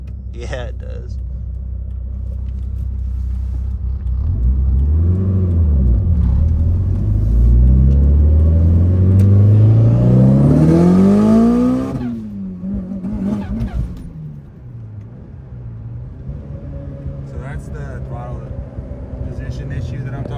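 A Mitsubishi Evo drives and revs hard, engine pitch climbing steadily to a loud peak, then dropping off to a lower rumble as the car settles, heard from inside the car.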